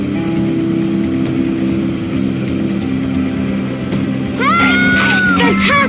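A video game helicopter in Rescue Bots beats with a steady rotor chop and engine whine throughout, with bright electronic game chimes and effects near the end.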